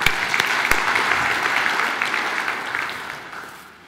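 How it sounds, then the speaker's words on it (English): Applause from the audience at a Kingdom Sacco general meeting, with a few sharp near claps at the start, then steady clapping that gradually fades away over four seconds. "I think you should give them a clap for that"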